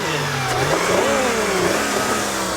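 A 1999 Mercedes-Benz CLK engine revs up from a steady idle, pitch rising and falling in a smooth swell, loud and close with no talking.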